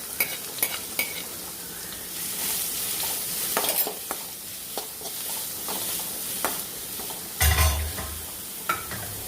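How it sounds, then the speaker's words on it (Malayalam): Finely chopped onions sautéing in oil with dried chillies and curry leaves for a bitter gourd thoran, a steady sizzle broken by repeated scraping stirs and clinks of a spoon against the pan, with a louder burst near the end. "ഇനി ഇതിലേക്ക് ചെറുതായിട്ട് അരിഞ്ഞ് വെച്ചേക്കുന്ന സവാള കൂടി ഒന്ന് ഇട്ട് കൊടുത്തിട്ട് നന്നായിട്ടൊന്ന് വഴറ്റിയെടുക്കണം"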